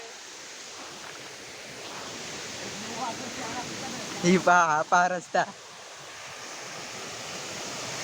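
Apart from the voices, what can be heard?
waterfall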